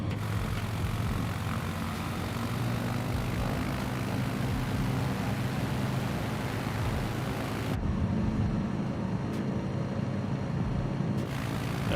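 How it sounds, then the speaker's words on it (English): An airplane engine in a flight simulator video game drones steadily through a takeoff run, loud and continuous, shifting in tone partway through, with no talking. "let's get a better takeoff this time"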